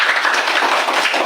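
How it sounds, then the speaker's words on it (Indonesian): Students in a classroom give a short burst of dense, lively clapping, many hands together at close range. "Beri aplaus dulu untuk Jikri."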